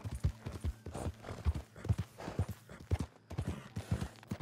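Horse hooves galloping in the video game Red Dead, a steady rapid clip-clop rhythm of repeated hoofbeats, fairly close and prominent, running continuously with no voices over it.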